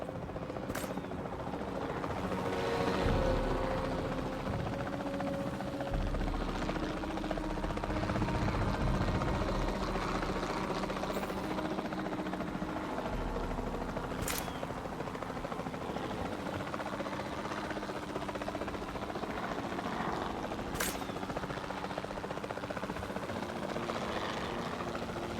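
Helicopter flying, a steady continuous rotor drone at moderate volume throughout with no talking.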